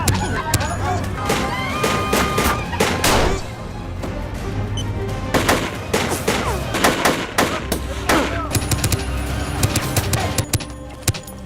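Gunfire in an action film firefight: rapid bursts and scattered shots, dense and loud, mixed with thuds and booms under a continuous score and ambience.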